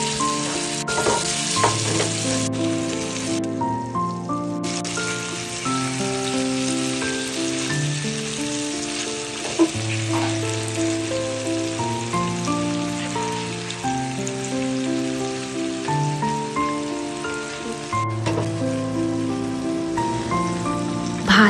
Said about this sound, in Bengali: এরপর মেখে রাখা পনিরগুলোকে হালকা তেলে সোনালি করে ভেজে নেওয়া হলো